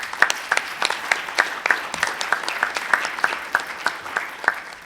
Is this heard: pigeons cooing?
no